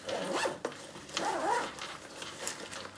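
A long zipper on a compact everyday-carry medical pouch is pulled open in several quick, close rasping strokes, with short pauses between them.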